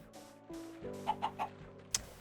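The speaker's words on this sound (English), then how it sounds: "that chicken is going to be very annoying" A chicken in the game Minecraft gives a few short clucks over a steady low game hum, quiet and somewhat distant, followed by one sharper high chirp near the end.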